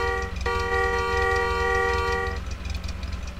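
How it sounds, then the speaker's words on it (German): A car horn in the video game The Long Drive gives one steady, sustained blast of about two seconds. It is loud and close, over a low, rumbling engine idle that keeps going after the horn stops. "Hupe."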